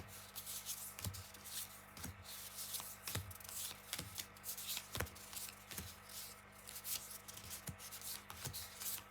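Tarot cards are shuffled and moved about by hand on a surface: a steady soft rubbing and sliding, with sharper taps about once a second, close and quiet, with no talking.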